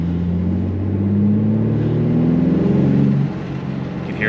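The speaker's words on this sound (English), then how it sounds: "You can hear the turbo spooling up" A turbocharged 2021 BMW G80 M3 engine rises steadily in pitch as it accelerates under load in third gear, a loud droning roar that swells for about three seconds before easing off.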